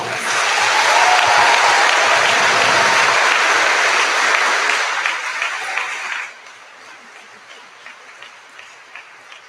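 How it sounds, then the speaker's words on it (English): A large crowd applauds loudly and steadily for several seconds before the clapping abruptly drops off, leaving only a few scattered claps. "So let's give them a round of applause."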